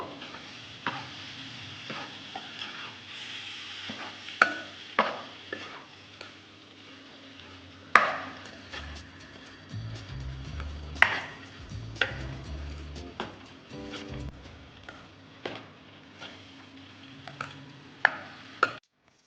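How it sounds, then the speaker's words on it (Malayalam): Cooked green gram (mung beans) is stir-fried in a pan, with scattered spatula clicks and taps against the pan and a faint sizzle in a quiet kitchen. "ചെറുപയർ ഇട്ട് കൊടുത്ത് വഴറ്റി നോക്കുക."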